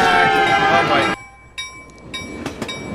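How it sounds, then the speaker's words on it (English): A train in the Roblox video game rumbles loudly past and runs over the player for about a second, then cuts off, leaving faint game tones and blips, with a voice talking. "with me getting run over by a train because I started recording the video"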